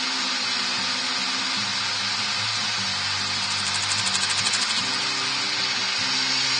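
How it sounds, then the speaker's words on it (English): Woodturning lathe running at moderate speed while a bowl is finished, a steady close motor hum with a whirring tone that wavers slightly, continuous with no talking. "with a fairly slow lathe, kind of a mid-speed"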